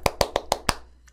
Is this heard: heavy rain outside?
no